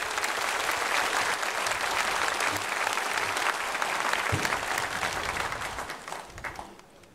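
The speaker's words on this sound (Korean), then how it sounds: "나오실 때 박수로 환영하겠습니다." Church congregation at a Sunday worship service claps steadily to welcome the preacher, a dense, sustained wash of applause that holds for several seconds and then tapers off near the end.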